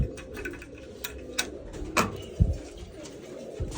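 Pigeons in a loft where grain is put out give a couple of low, soft coos over a steady hum of background noise and scattered light clicks.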